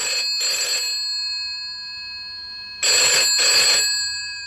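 An old-style telephone bell rings at a village post office counter, two short bright double bursts of ringing separated by a pause, loud and close with no talk.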